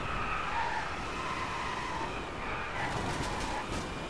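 A Mercedes SLS AMG Coupe Electric racing in the DriveClub video game gives a steady, loud electric drive whine mixed with tire skidding, continuous throughout with no talking.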